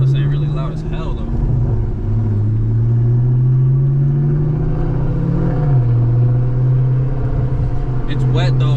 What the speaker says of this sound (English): The Mustang really loud as hell though.